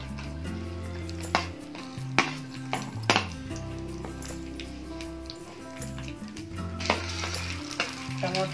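Green chillies fry in hot oil in a kadai with a close, steady sizzle. Occasional sharp ticks and spatula knocks punctuate the hiss.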